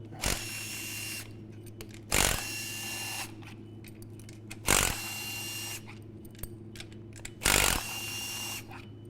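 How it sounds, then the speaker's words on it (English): Hand tools work bolts loose from an engine's intake manifold, four sharp bursts of ratcheting spaced a couple of seconds apart, with quiet pauses and faint clatter between them. "All right, I'll start taking bolts out."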